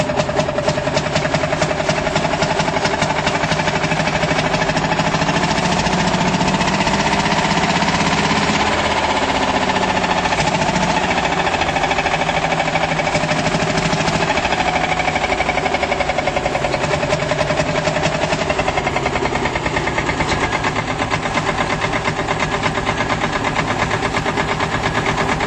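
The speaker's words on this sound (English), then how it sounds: "With its signature bark and single-cylinder thump, this classic machine fires up with all the character of British agricultural engineering" A 16-horsepower Field Marshal Fowler single-cylinder British agricultural engine runs steadily for a long stretch, its rapid, even thumping knock close and continuous with no pauses.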